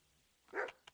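A single short dog bark in Kingdom Come: Deliverance 2, quiet and distant, followed by a faint yip.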